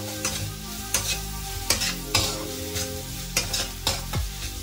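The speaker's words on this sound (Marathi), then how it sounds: "याच्यामध्ये जी तुरीची सोलेची जी पेस्ट आहे ना ते टाकायची आणि याला छान असं मस्त मिक्स करायचं" Tur bean (sole) paste is stirred into hot oil in a pan, a steady low sizzle broken by a series of spaced scrapes and knocks from the spoon.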